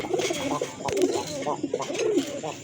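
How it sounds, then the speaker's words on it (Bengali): White Jacobin pigeons cooing in repeated soft, throaty bursts, close by, with a faint background murmur. "আরেক জোড়া কবুতর এটা হচ্ছে আপনার হোয়াইট জ্যাকোবিন"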